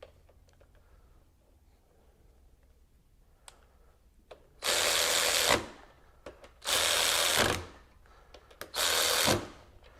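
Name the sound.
RIDGID 18V extended reach cordless ratchet breaking bolt free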